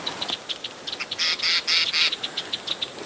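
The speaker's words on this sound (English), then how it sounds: "It's not what these birds are alarm calling about." Small birds give repeated sharp, high chattering alarm calls in quick bursts, some louder and closer, against a faint background hum.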